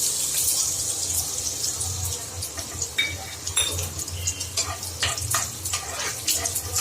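Chopped ginger, garlic and cumin fry in hot oil, a steady bright sizzle broken by scraping and clinking stirring sounds, close and moderately loud.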